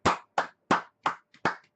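A small round of clapping for a podcast co-host: six separate, sharp hand claps in an uneven rhythm, close and fairly loud, with no talking underneath.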